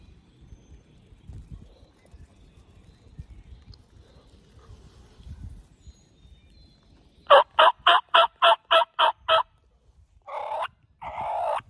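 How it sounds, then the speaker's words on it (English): A wild turkey gobbles loudly after several quiet seconds, a rapid string of about eight rattling notes, followed by two shorter bursts, all fairly close, in the West Virginia woods during rain. "He might have just gobbled."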